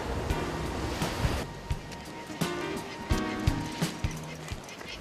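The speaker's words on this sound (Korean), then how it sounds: "바람과 큰 너울 파도가 낚시를 어렵게 한다." Wind and large ocean swell waves on a fishing spot, steady roar of surf and gusting wind broken by repeated sharp thumps and splashes, fairly loud.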